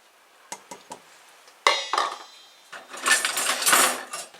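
Dry lentils are tipped into a pan: a few light taps first, then a loud clattering rush of small hard grains hitting metal, scattering close by in two bursts.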